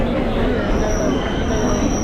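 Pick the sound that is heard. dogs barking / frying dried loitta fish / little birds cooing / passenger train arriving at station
passenger train arriving at station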